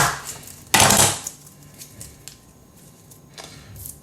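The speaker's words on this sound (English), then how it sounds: "so now for the onion. Take the top off, take the bottom off, down the middle." An onion being topped, tailed and halved with a knife on a cutting board: one sharp, loud chop against the board, then a few faint light taps and scrapes in a quiet kitchen.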